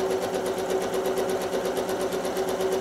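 A domestic sewing machine doing free motion quilting, running at a steady, gentle medium speed with a continuous rapid rhythmic whirring and needle chatter, close and alone.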